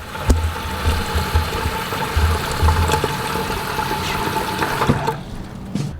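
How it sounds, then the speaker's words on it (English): Tap water runs into a small cooking pot on a home stove, a continuous splashing rush with a few clanks, cutting off near the end as the flow stops. "so I'm just gonna get some water in here."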